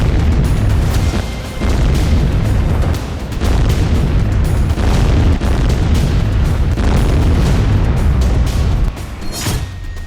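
Hellfire missile strike explosions in Gaza, heard as a dense, continuous roar of loud booming blasts and rumbling that fills the whole stretch with only brief dips in intensity.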